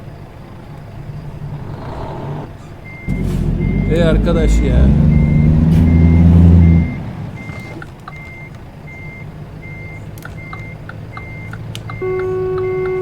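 In American Truck Simulator, a vehicle sounds repeated reversing beeps at a steady rhythm while a truck engine rumbles loudly for a few seconds, with someone talking over it.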